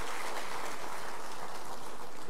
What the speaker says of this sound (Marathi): आपण सगळ्यांनी टाळ्या वाजून स्वागत करावं